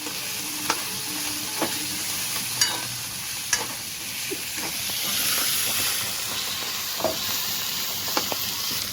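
Potatoes being mixed in a hot pan for sabudana khichdi, with continuous sizzling and hissing broken by sharp clicks of a spoon against the pan, close, with no talking.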